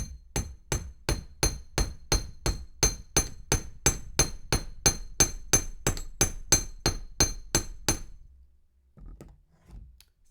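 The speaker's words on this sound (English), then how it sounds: "So just hammer the curve," Wire for a tree-of-life pendant frame is hammered into a curve: about twenty sharp, evenly spaced metal taps in a quick steady rhythm, close and clear, ending in a brief pause and a few soft handling sounds.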